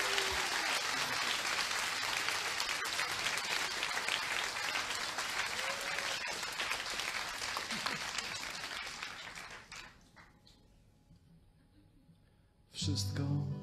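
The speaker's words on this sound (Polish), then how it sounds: "Prosimy o klaski." A theatre audience at a concert at Teatr STU in Kraków breaks into loud, sustained applause that runs for about nine seconds, fades to a quieter room, then swells again abruptly at the very end.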